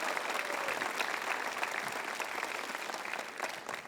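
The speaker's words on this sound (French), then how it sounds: "applaudissez plus fort que ça" An audience applauds steadily throughout, a dense, even wash of many hands clapping at moderate distance without letup.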